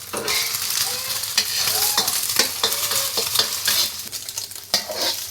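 Beaten eggs being scrambled in a hot wok with two tablespoons of oil, a loud steady sizzle broken by repeated scraping strokes of the spatula against the metal.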